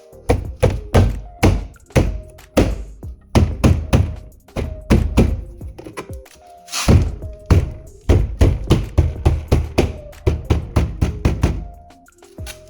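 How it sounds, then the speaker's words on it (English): A rapid series of hard plastic thunks and clicks, close and loud, as trim clips are pressed into an Audi A4 B9 door in repeated bursts with brief pauses between groups. "And hearing the clicks."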